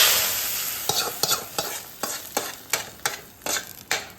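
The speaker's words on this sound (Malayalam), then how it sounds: "കടുക് വറുത്ത് മീനിലേക്ക് ഒഴിക്കാൻ പോകും." Mustard seeds temper in hot oil for a homestyle fish curry, giving a bright continuous sizzle that fades slightly, overlaid by sharp, evenly spaced stirring scrapes about twice a second.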